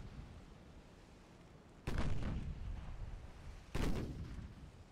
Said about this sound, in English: You just torped me.